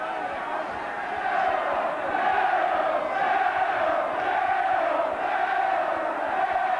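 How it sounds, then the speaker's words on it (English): A boxing crowd at the Barry Michael versus Najib Daho fight roars in a steady, swelling wash of cheering and shouting that rises after the first second and holds at a loud, continuous level. "Excites the crowd indeed."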